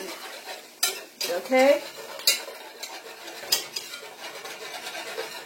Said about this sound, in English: you grab your whisk and start whisking in the flour